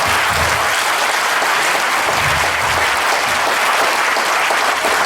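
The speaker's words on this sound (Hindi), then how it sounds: "तो जोरदार ताली बजाइए," Loud, continuous applause from a crowd at a Holi gathering, dense and even throughout with a few faint low voices underneath.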